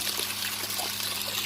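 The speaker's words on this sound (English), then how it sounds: "I got the high banker going, the Prospector's Choice high banker." Steady running water rushes through a Prospector's Choice high banker used for gold prospecting, pumped flow giving an even, close, continuous wash with no voices.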